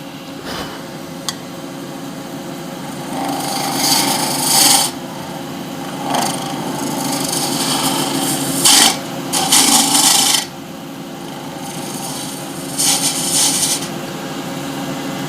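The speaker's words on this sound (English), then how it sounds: "I'm just going to try going in with the spindle gouge here" A spindle gouge cuts into a wood blank spinning on a lathe for a shaving brush handle, giving a steady rubbing hum broken by several louder, harsher bursts of shaving contact.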